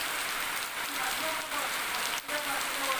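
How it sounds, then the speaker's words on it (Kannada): Heavy rain pours steadily onto a surface, a loud continuous hiss with a couple of brief dips. "ಮಳೆ ಜೋರು ಜೋರು ಬರ್ತಾ ಉಂಟು"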